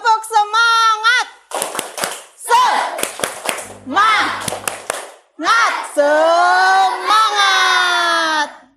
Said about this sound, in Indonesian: Sebelum kita mulai pembelajaran kita tepuk semangat dulu.